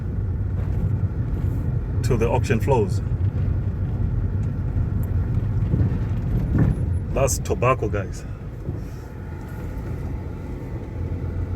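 Steady low engine rumble of heavy lorries transporting tobacco rolling past nearby in Zimbabwe, with someone talking over the traffic noise throughout.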